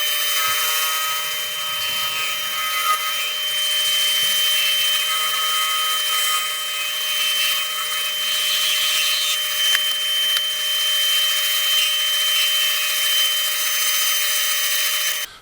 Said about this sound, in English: then I'll start the outside sand and sand the inside of the main box